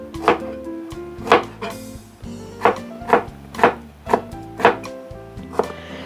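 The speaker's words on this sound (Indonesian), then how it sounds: "Saya rajang-rajang dulu bawang merahnya sampai habis ya." Knife slicing shallots thinly on a cutting board in a steady rhythm, about nine sharp, close chops with brief pauses between them.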